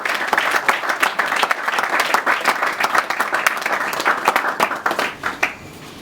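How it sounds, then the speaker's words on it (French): An audience applauds at the installation of a new party office, with many hands clapping in a lively, uneven rhythm. Individual sharp claps stand out in the crowd's clapping for about five seconds before it eases off. "pour qui je demande d'applaudir"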